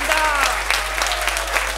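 A seminar audience in Jehanabad applauding at an RCM business training session: loud, dense clapping from many hands in a hall, steady throughout, with a voice over it.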